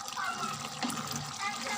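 Water is poured into a cooking pot of chicken karahi, a soft, continuous splashing trickle heard fairly faintly and close by.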